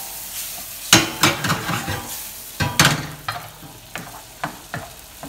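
Tomato sauce for ranchero shrimp cooking in a pan, with a steady sizzle broken by several sharp stirring scrapes and clinks of a utensil, close and moderately loud.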